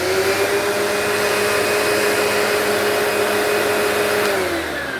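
A restored commercial vacuum cleaner runs steadily, a loud, even motor whine with a constant pitch that drops slightly near the end as it begins to wind down.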